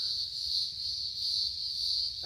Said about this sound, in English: it's cicadas. It's deafening.